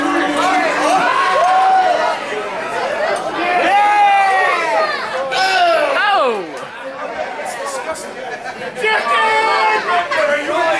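Crowd at a wrestling event, a steady murmur of many voices with scattered shouts and rising, falling calls, loud and continuous throughout.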